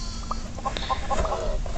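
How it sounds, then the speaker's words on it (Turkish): Chicks on a farm in the Mini World video game cluck in a quick series of short, high peeps and clucks over a steady low game background hum. "Şurada da civcivler var."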